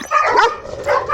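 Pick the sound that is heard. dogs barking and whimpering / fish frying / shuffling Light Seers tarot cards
dogs barking and whimpering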